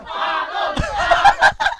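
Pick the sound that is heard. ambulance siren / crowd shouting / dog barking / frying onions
crowd shouting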